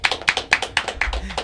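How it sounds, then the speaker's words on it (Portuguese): A small group claps for grandma Vó Tica in quick, steady rhythm, about four crisp hand claps per second, close and fairly loud with no talking over them. "Votica, agora é uma salva de palmas"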